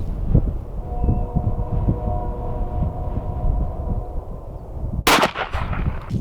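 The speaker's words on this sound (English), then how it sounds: "First time shooting the Maz 36." A single sharp, loud report from a MAS 36 bolt-action rifle cracks out at an outdoor shooting range, preceded by quiet background rumble and handling noise.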